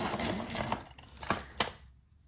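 Short bursts of scratchy grinding, like a pencil being turned in a sharpener, with a few sharp clicks near the end before it falls quiet.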